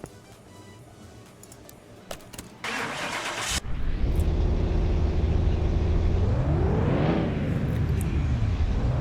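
A simulated car engine in the Car Mechanic 2021 game cranks and starts, then runs loudly on a dyno, revving up to a peak and dropping back, with no talk over it.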